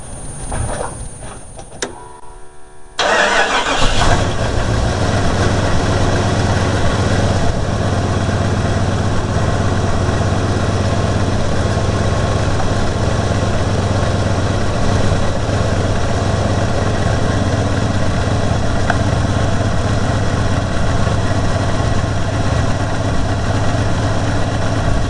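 A cold engine starting and idling with the choke on, a loud, steady low rumble that settles in after a brief rattling start and idles on with a slight bounce, no talking.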